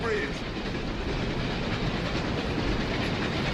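A train crossing a bridge over a river, its wheels keeping up a steady, fairly loud rumble and clatter throughout with no break.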